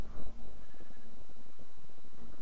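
A sheep in the video game Minecraft bleats a couple of times, moderately close, over quiet game ambience with no talking.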